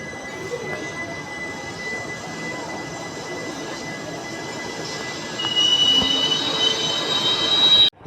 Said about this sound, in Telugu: సో మన ట్రైన్ అయితే మూవ్ అయిపోయింది అనమాట